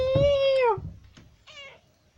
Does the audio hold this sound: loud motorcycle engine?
no